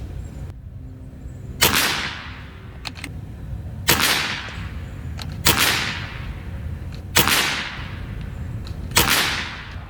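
A Reximex Lieva lever-action PCP air rifle fires five sharp cracks at steady intervals of about two seconds, close and loud, with faint lever clicks between shots.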